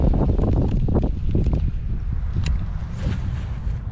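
Strong wind buffeting outdoors on a swamp during kayak bass fishing, a loud steady roar of gusts across the microphone with rustling and a faint rattle mixed in, continuous throughout.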